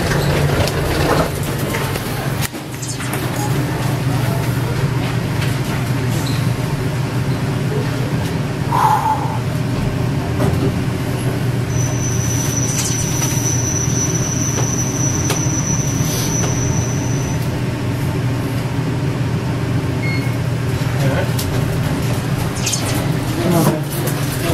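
Hydraulic elevator at Miami International Airport's international arrivals, running during a ride with steel fixtures: a steady low hum and rumble throughout, with a faint high whine partway through and brief clicks, under occasional quiet talk.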